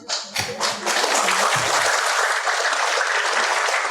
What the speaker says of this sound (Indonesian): kasih tepuk tangan sekali lagi dong